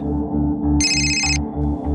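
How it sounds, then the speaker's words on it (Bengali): A telephone rings in one short electronic burst over a low, steady rumble. "কার ফোন এসেছে।"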